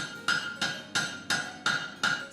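A power forging hammer strikes metal in a steady rhythm, six sharp ringing blows about a third of a second apart, close and loud.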